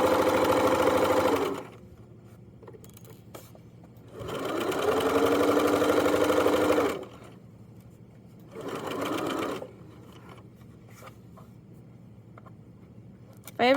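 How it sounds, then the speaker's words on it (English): A sewing machine stitches the U-seam of joggers in three runs of steady motor whirring and needle chatter, with quiet pauses between, the middle stretch longest and a short backstitch burst after it. "So we'll sew, and we'll backstitch, and then we'll continue on."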